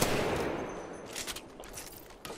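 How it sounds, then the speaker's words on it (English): Gunfire in a battle-royale video game, a dense burst of rapid shots up front that thins into scattered, fainter shots. "I am taking fire, folks."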